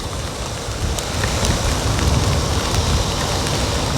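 Heavy typhoon rain pours steadily on a dark road in Calamba, Laguna, heard from a moving motorcycle as a dense, continuous hiss with faint splashes and wind.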